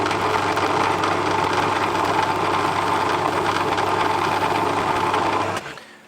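A small drill bores a 1.8mm hole in a miniature oil can with a steady, close, high whirring hum that runs unbroken and then cuts off near the end.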